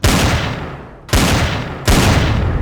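Gunfire from a sentry gun in the space survival video game Empyrion - Galactic Survival, three loud sustained bursts in quick succession, close and harsh, with no talk.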